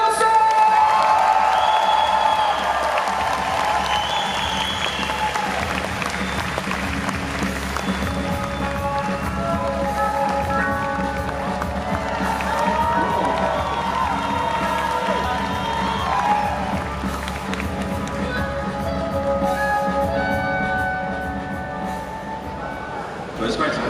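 Lively convention crowd at a London comic con applauding, cheering and whooping as a guest actress is welcomed, a sustained dense wash of claps and shouts with a voice talking over it throughout.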